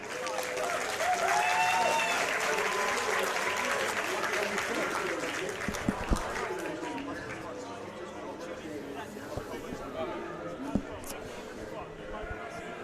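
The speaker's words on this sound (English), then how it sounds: "Can we have a round of applause, please" Applause from a crowd at a DreamHack 2011 gaming event, loud at first and tapering off, mixed with crowd chatter and a few thumps in the background.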